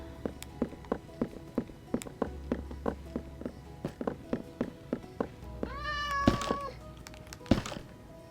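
Minecraft cats meow over and over in a steady rhythm, with clear rising-falling calls near the end and soft blocky game thumps underneath.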